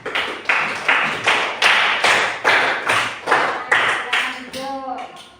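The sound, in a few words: applause for presentation group B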